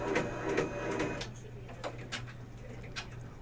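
A loud embroidery machine stitching a design produces rapid mechanical clatter with a steady low motor hum and bursts of ticking, close and continuous.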